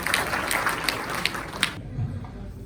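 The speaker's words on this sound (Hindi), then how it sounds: "कृपया आएंगी, कि ताली बजा करके स्वागत करें मैडम का" An audience claps in welcome at an EPFO awareness campaign event at JCD Vidyapeeth, Sirsa. The dense applause carries a few sharper claps, then cuts off abruptly and quiet murmuring follows.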